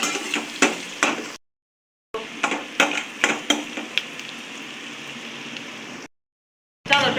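Chopped onions frying with turmeric and a little salt in a pan for veg pulao: a steady close sizzle, with repeated scraping stir strokes and a couple of brief silent gaps, with no voices.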